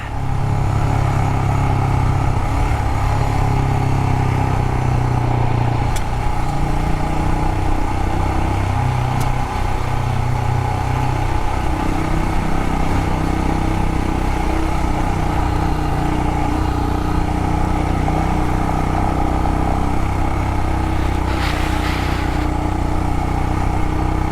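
A motorcycle engine drones steadily and loudly throughout a hot ride through Canyonlands in Colorado, a continuous close rumble with slight shifts in pitch and heavy wind noise over it.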